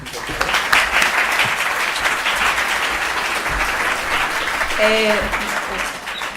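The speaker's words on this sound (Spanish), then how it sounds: "yo creo que le podemos dar un aplauso de salida por haber venido" An audience at a science lecture hall gives a send-off round of applause, dense continuous clapping throughout, with a brief voice rising over it near the end.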